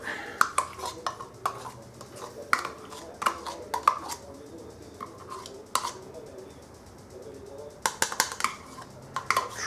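Repeated clinks and scrapes of a spoon against a jar and bowl, with tikka paste being scooped out and knocked off into the bowl, sharp close taps in irregular bursts.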